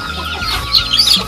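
Chickens on a Nepali village farm give short clucks and chirps nearby, several quick calls in a brief burst with no talk.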